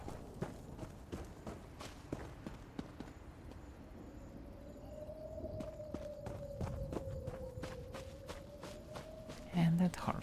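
Horse hooves clip-clop in The Elder Scrolls Online, a steady stream of moderately loud, evenly spaced hoofbeats running throughout, with a soft tonal hum in the background.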